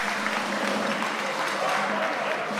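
An audience at a quiz contest, the Gas Challenge, applauds team Propane with steady, moderately loud clapping throughout, a dense wash of many hands with no break.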